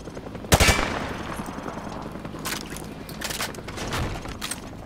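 Gunfire rips through light cover in Modern Warfare 2 Remastered, a sharp opening burst followed by repeated rapid shots and impacts at close range over a rumbling background.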